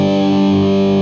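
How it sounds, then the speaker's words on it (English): Open chords on an electric guitar through a distortion effect, one thick, saturated, sustained chord ringing loud and close for about a second, with no talk over it. "So what happens is we're playing the chords open now."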